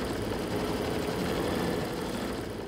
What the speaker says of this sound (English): Embroider the design.